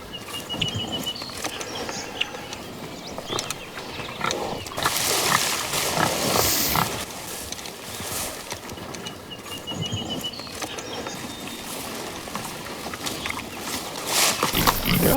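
Pigs grunting and squealing nearby amid shuffling and movement, with intermittent louder squeals and rustling noise throughout.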